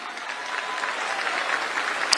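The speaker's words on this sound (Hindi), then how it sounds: "एक बार जोरदार ताली बजाओ भाई कुलदीप जी के लिए।" Loud, sustained applause from a large crowd at a Delhi Games 2025 event in Talkatora Stadium, steady clapping filling the hall throughout with no pause.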